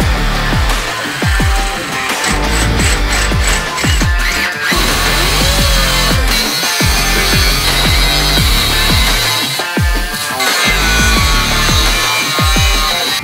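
Sheet metal pieces for a James Duff roll pan being cut with a power tool, giving loud, continuous grinding and rasping with repeated bursts and low thumps throughout, close up and with no talking.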